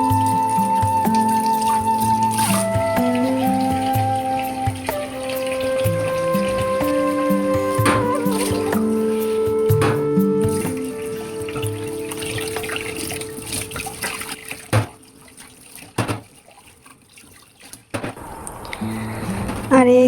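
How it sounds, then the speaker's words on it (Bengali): Dishes get washed under running water at a kitchen sink, with water pouring steadily and utensils clinking, while music plays loudly over it; toward the end the water stops and only scattered knocks remain. "আমি সব বাসন সব কিছু ধুয়ে নিতেছি আস্তে আস্তে"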